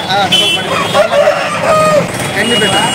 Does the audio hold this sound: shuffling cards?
no